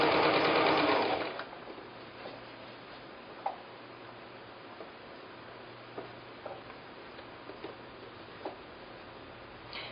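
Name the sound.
sewing machine stitching a quilt seam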